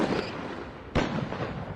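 An artillery crew in Empire Total War, set in the American Civil War, fires as a deep booming blast over rumbling battle noise, with a second sharp report about a second later.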